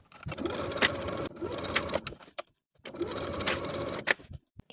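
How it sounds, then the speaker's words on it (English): A sewing machine runs in two steady bursts, stitching a dress bodice onto the top of its tiered skirt panels, with a brief pause between runs and no talking. "Then we'll sew the bodice main to the top of all of our panels with a 3/8 inch seam allowance"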